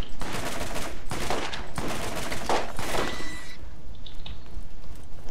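Revolver gunfire in the video game Borderlands, a dense burst of loud shots over the first three and a half seconds, then quieter game ambience.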